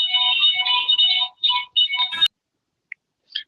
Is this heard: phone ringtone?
yes